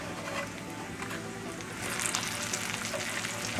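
Thick bacon sizzles and pops steadily in a cast iron skillet, a dense close crackle that grows slightly louder midway, with no speech over it.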